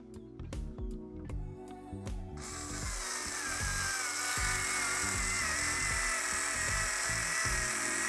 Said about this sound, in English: Then we need our electric screwdriver, and that's going to drive this thing all the way through to the other end here.